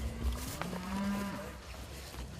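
A single beef cow gives a low, drawn-out moo out on the ranch, fairly close and clear, lasting about a second against a quiet background.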